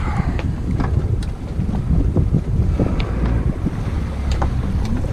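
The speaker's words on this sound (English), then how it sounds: "Wind's real bad." Strong wind buffets the microphone over open water during crabbing for blue crabs, a loud continuous rumbling roar with gusty swells and faint splashes or creaks, no talking.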